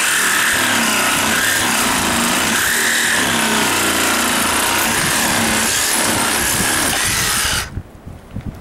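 A power saw grinds loudly and steadily through a stubborn bolt on a 1978 Camaro, a continuous harsh metal-cutting whine lasting several seconds before stopping abruptly near the end, leaving quieter background noise.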